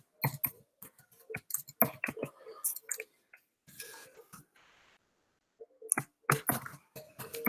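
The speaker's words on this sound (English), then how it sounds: "I will type in my password" Someone types a password on a computer keyboard: bursts of crisp, irregular key clicks come near and clear, with a quiet pause in the middle before a final flurry of taps.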